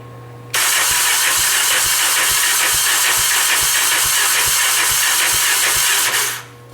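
A Honda 350D engine cranks over slowly on its starter, loud and close, with a steady even beat of compression pulses under a broad hiss for about six seconds before it cuts off.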